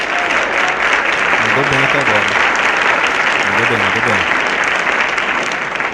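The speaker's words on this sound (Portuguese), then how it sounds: "Opa, uma salva de palmas." An audience breaks into sustained applause, a loud, even clatter of clapping during a Brazilian political talk, with someone speaking over it.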